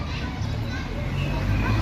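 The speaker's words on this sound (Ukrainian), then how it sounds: "Зазвичай біля цієї школи завжди весело, шум гам" Children play noisily outside a primary school in a Dutch village, a dense, steady murmur of young voices and shouts filling the short stretch at a constant level.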